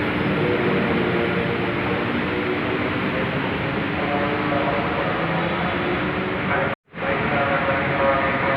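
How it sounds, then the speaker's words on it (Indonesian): A Jakarta LRT Jabodebek light rail train rumbles past with a loud, steady roar and hiss that cuts out for a moment near the end before resuming. "Ah, ini dia keretanya."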